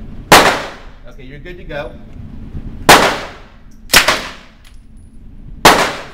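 Four loud single shots from a heavy gun at a police firearms range, sharp cracks spaced about a second or two apart, each ringing out briefly, with a short spoken exchange between the first two.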